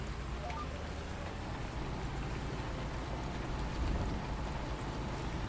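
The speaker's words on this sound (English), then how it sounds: "it's peeing it down with rain and thundering" Steady rain patters and hisses on surfaces in Farming Simulator 19, with a low thunder rumble swelling briefly near the end, heard without talk.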